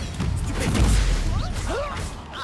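Spells cast in combat in Hogwarts Legacy: bursts of magical whooshes and crashing impacts in quick succession, loud and dense, with rising and falling tonal swirls.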